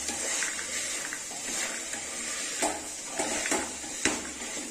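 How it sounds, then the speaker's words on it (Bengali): Kabuli chickpeas being stirred with spices in a pot, a quiet steady sizzle with soft scraping and occasional metallic clinks of the spoon against the pot. "কিছুক্ষণ ভালো করে কষাতে থাকবো মশলার সাথে কাবলি ছোলাটা"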